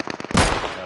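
Gunfire in the video game Deadside: a quick run of sharp shots in the first third, then one heavier, louder blast whose noisy tail rings on to the end.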